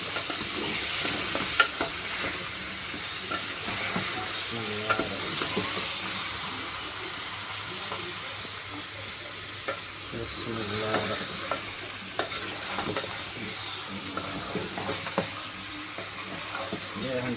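Chicken frying and being stirred in a small pot (handi) for Bombay biryani, loud continuous sizzle and hiss with repeated scraping stirs, close up, no talk.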